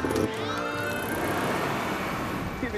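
A little ginger cat in the film A Street Cat Named Bob gives drawn-out, wavering meows up close. A steady street-like background hum runs beneath them.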